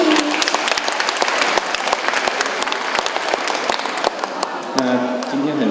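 Audience applause welcoming a music department director to speak at a Mother's Day choir concert held in a hospital, with dense clapping running throughout and a voice breaking in near the end.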